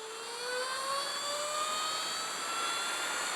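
A Cake Kalk OR electric dirtbike pulls away with a rising electric whine that climbs steadily in pitch as it accelerates, close and loud, with no talking.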